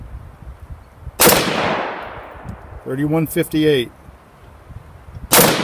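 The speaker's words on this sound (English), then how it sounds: "now we have the M855 62 grain full metal jacket. Let's see how this does muzzle velocity wise." Two sharp, loud rifle shots fired with M855 62 grain full metal jacket rounds from a custom infantry automatic weapon style upper receiver, spaced several seconds apart, each with a decaying outdoor echo, and someone speaks briefly between them.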